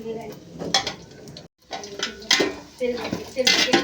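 Cashews and raisins are stirred and fried in a pan for semiya kesari, with a metal spoon clinking and scraping against the pan in uneven bursts over a light sizzle, and a brief silent gap partway through.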